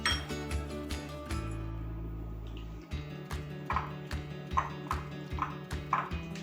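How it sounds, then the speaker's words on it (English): A spoon stirs lemon juice, black pepper, salt and mustard paste in a small bowl, making a run of close, light clinks and taps that settle into a regular rhythm. "You need to mix well"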